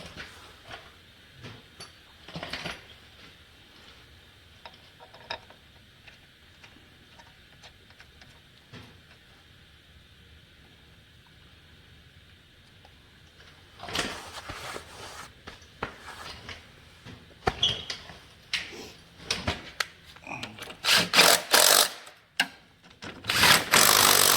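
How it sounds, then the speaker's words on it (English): Sharp torque-wrench clicks as transmission bolts reach torque on a mud truck, a few faint ticks at first, then a dense burst of loud, close metallic clicking and ratcheting. "Those clicks are torques. That's how you know. Click, it's torqued."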